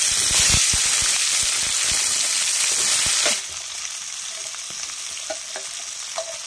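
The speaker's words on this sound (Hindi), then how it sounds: "अब हम डालने जा रहे हैं सेम।" Broad beans hit hot oil with cumin seeds, letting out a loud, bright sizzle that drops sharply to a quieter steady frying hiss, with a few light clicks of a stirring spoon.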